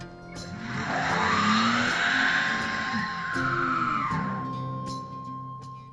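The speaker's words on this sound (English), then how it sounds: "no matter how much you rev your engine, you're not going anywhere" A car stuck in a roadside ditch revs its engine hard while the tires spin and squeal. The whine climbs and falls in long surges for several seconds, loud and close.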